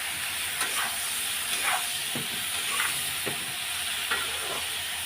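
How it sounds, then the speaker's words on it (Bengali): Capsicum and onion frying in a hot pan, making a steady close sizzle and hiss, with a few soft stirring scrapes on top and no talking. "এইবার আমি দিয়ে দেবো ক্যাপসিকাম আর পেঁয়াজটা,"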